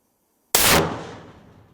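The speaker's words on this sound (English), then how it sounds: "So I'm gonna shoot it." A single .50 caliber rifle shot fired at a concrete highway barrier: one sudden, very loud blast after silence, followed by a long, fading rumble.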